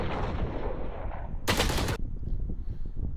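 Half-second burst of rapid gunfire in the tactical shooter game Valorant, loud and sharp, cutting in over steady background game sound and ending abruptly.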